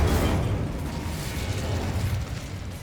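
A Bombarda explosion spell cast in the Hogwarts Legacy video game gives a loud, sustained boom with heavy low rumble that holds steady for about three seconds.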